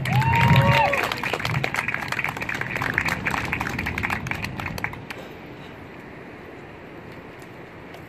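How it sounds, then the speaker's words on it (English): Applause from a crowd at an outdoor protest at the Ark Encounter in Williamstown, Kentucky, moderate and somewhat distant with voices mixed in, fading out after about five seconds into quiet ambience. "Give him a big round of applause."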